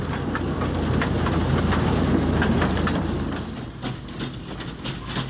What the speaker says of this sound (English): a train running on lightly laid, narrow-gauge rails